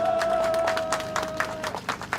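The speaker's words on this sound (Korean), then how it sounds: "여러분 뜨거운 박수로 맞아주시면 감사하겠습니다" Scattered clapping from a crowd at an outdoor political campaign rally in Seoul, uneven and moderately loud, with a steady tone humming through the first part.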